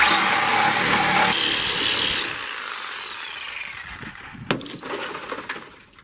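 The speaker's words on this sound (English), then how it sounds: "now I'm going to cut the C pillar door frame" Saw cutting through the C-pillar door frame of a Toyota Corolla, a loud harsh grinding buzz for about two seconds that cuts off, followed by a sharp clatter and fainter rattling of metal.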